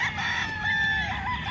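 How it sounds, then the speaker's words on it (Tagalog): Chickens and roosters on a big breeding farm in the Philippines crow and cluck close by in a short, drawn-out call over steady outdoor background noise. "tingnan natin itong mga manok saan sila?"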